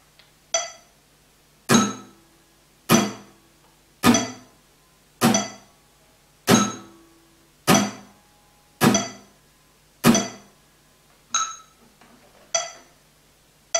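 Acoustic guitar struck with steady downstrokes only on the beats, in a beginner rhythm exercise: about eleven evenly spaced, bright strums, each ringing and fading before the next, played alone at close range.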